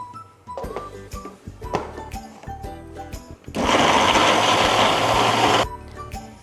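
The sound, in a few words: blender grinding hummus paste until smooth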